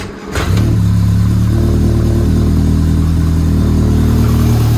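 A stone-cold Lotus Elan engine catches after a cold start and settles into a loud, steady, slightly uneven idle, heard up close with no talking.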